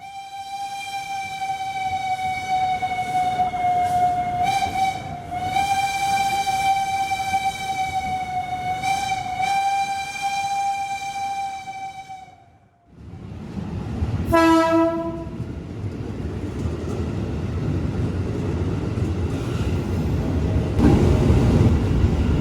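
The Taksaka train sounds a long, loud, sustained multi-tone horn at Gambir station platform, briefly broken and resumed, then a shorter blast follows over the rumble of the train rolling along the elevated platform.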